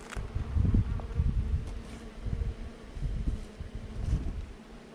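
A steady, dense buzz of many honeybees swarming close by around a hive on a Portuguese farm, droning continuously with slight rises and falls and no voices.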